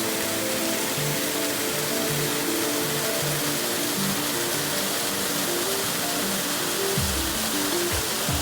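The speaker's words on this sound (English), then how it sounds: "it's a beautiful waterfall" A mountain waterfall tumbles down beside Highway 34, a steady, broad rushing roar that holds constant throughout, heard alone without talk.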